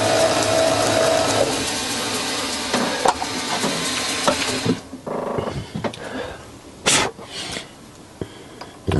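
A mini lathe cuts a tailstock part with a steady, loud, rasping hiss for several seconds; the cut then stops and scattered clicks and knocks follow.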